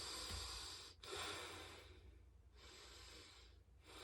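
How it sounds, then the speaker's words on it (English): Slow, steady breaths drawn in through the nose and let out during a breathwork practice, each airy rush filling a few seconds with brief pauses between. "inhale through your nose."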